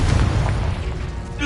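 A Confringo spell detonates in Hogwarts Legacy, a loud booming blast at the start that rumbles and decays over a second, with game voices alongside.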